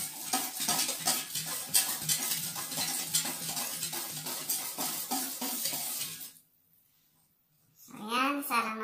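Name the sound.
continuously stirring a mixture in a pot on the stove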